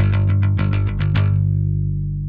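Parallax X bass pedal set to high distortion, rhythmic bass guitar notes with a gritty, fizzy top layer, several plucked notes then a sustained ringing note decaying alone.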